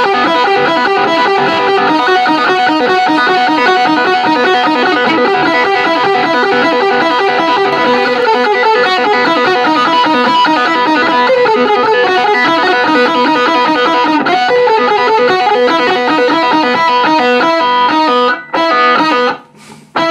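An electric guitar plays through a Line 6 Spider IV 120 amp with heavy distortion and effects, a loud, dense sustained passage that cuts off abruptly near the end.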